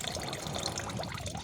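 Elephant foot yam leaves being washed in water, a short close burst of continuous sloshing and trickling with no voices.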